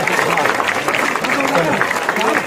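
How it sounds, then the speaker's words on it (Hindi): Audience applause at a village welcome ceremony in Haryana, a steady wash of clapping from a gathered crowd with voices and speech mixed in throughout. "सब साथ में तालियों के साथ स्वागत होना चाहिए जी"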